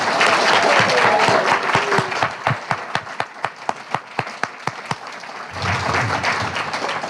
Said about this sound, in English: One more round of applause for these readers.